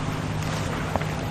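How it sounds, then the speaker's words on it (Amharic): A boat under way at sea gives a steady engine drone with water wash and wind noise buffeting the microphone, one brief knock near the middle, and no talk. "ባህር ጀልባውን እየነዳው ነው"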